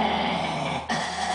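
A dog gives a low, steady growl, close and continuous for a moment, with no other sounds around it.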